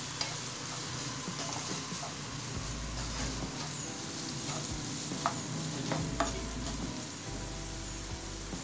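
Salted onions fry in a pan with a soft, continuous sizzle, punctuated by occasional scraping stirs and a low rumble underneath; moderately quiet and close, with no one speaking.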